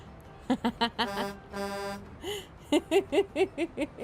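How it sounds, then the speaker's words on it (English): Car horns toot in a quick series of short honks at a drive-through reading event. A longer sustained blast falls in the middle, followed by another run of rhythmic beeps, loud and close. "Thanks for the honks, honk honks."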